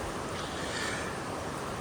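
Waterfall in a Costa Rican tropical wet forest, heard from a hanging bridge trail as a steady broadband rush of falling water that holds even throughout, with no clear voices.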